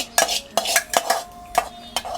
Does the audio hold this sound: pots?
yes